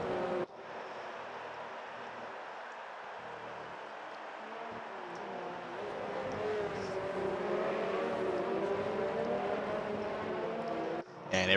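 Formula One cars in the F1 2019 racing game at the Hungarian Grand Prix, rounding the final corner to form up for the start, with a steady engine drone rising and falling under continuous commentary.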